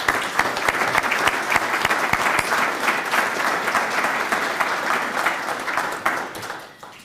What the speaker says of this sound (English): I would like to really give them a round of applause for all they've done.